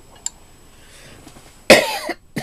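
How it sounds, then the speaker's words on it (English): A single loud, close cough bursts out after a near-silent stretch, followed by a shorter second cough. "I've been coughing a lot lately."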